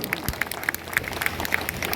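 Audience applause rises at a Vishwakarma community convention in Ballia, a dense, continuous crowd clapping at moderate loudness throughout, with no clear break.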